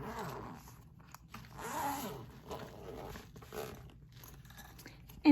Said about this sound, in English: The first one that I have to open is a soft case, so I just zip it up.